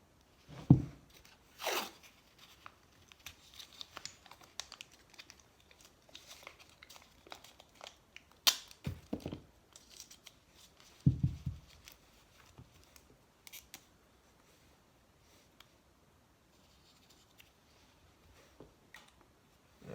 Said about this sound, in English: I'm gonna get the piece of tape on here